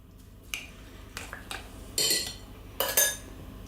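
Cherry tomatoes and flat-leaf parsley being mixed in a bowl: several separate clinks and scrapes of utensil against the dish, with two louder clattering bursts near the end and no talk.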